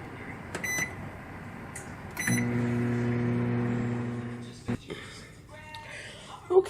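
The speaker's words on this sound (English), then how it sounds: "I'm gonna pop my cauliflower rice in the microwave." A microwave oven heating cauliflower rice hums steadily for a couple of seconds, with soft clicks and a beep nearby.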